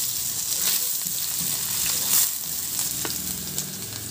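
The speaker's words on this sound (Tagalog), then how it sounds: "Sa kawali naman, magisa na rin ako ng bawang." Garlic sautéing in oil in a pan while monggo with pork pata is being made, giving a steady loud sizzle with brief stirring scrapes and no voices.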